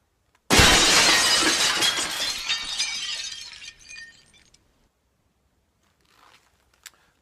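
A loud crash of mirror glass shattering, followed by a few seconds of tinkling shards settling, then near silence with a faint final clink.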